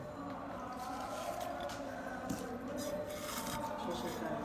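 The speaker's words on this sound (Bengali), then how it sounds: "পেঁয়াজটা আমি ভালো করে মরিচ ভর্তার সাথে মিক্সড করে নিচ্ছি" A hand mixes chopped onion into a mashed chili bhorta, making a continuous close wet rubbing and squishing that runs throughout without pause.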